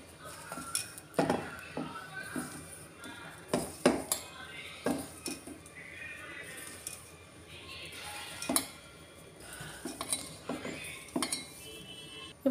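Metal utensil scraping and clinking against a bowl while dry momo dough ingredients with a spoonful of refined oil are mixed, irregular taps and scrapes close by at a quiet level.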